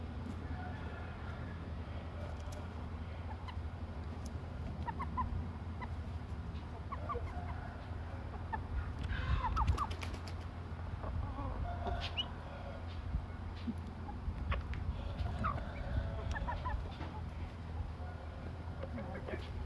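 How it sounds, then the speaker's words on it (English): Backyard chickens cluck and murmur intermittently nearby over a steady low background rumble, with a few louder calls standing out midway. "Thank you for sitting with me and my chickens today."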